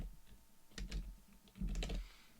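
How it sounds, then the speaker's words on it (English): Two short bursts of typing on a computer keyboard, each a quick cluster of clicking keystrokes, recorded close and fairly quiet with a faint room hum between them. "So I will go ahead and type that down."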